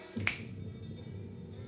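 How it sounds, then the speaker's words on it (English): A single crisp finger snap, close and sharp, standing out once against a quiet room background. "I snap my fingers."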